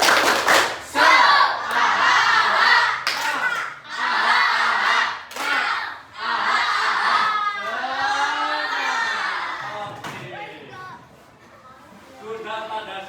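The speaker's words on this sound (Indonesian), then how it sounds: "Tepuk semangat." A primary school class performs a rhythmic spirit clapping chant in unison, loud and close, with bursts of collective shouting and claps repeating in short phrases.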